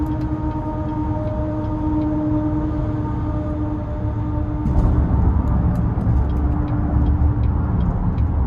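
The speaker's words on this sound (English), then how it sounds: "This dump truck next to me is so loud." A heavy dump truck rumbles loudly alongside, heard from inside a 2018 Buick Enclave, with a steady low engine drone, growing slightly louder partway through, with faint clicks on top.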